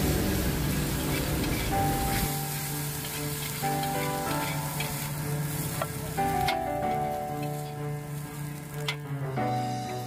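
Nasi goreng sizzles and crackles loudly in a pan at a street food stall, a dense steady frying hiss with occasional scraping stirs and faint tonal hum underneath.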